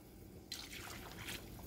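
Water poured into a cooking pot for a chicken shami kabab recipe, a short, faint trickle that starts abruptly partway through and runs briefly on its own.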